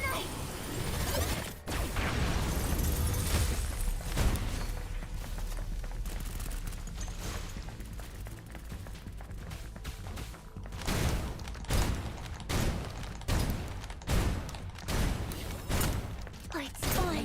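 Gunfire in a Unity-built video game sounds as repeated sharp shots: a lone early crack, then a dense burst of rapid reports in the second half, fairly loud and close.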